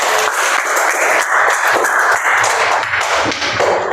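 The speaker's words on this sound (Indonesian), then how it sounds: "Oke, tepuk tangan." A school class clapping their hands in applause, a dense, continuous patter of many hands for about four seconds, close and fairly loud, with no voices.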